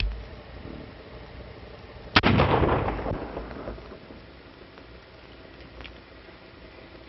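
A single gunshot from a 1933 western film bursts out loud and sharp, then rolls away in a long, booming decay over faint background hiss.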